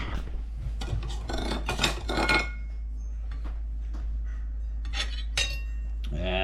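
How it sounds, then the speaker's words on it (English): A knife slices through cornbread on a plate, giving a few close scraping, rasping strokes with light clinks of metal against the dish, heard alone against a steady low hum. "let's cut the cornbread"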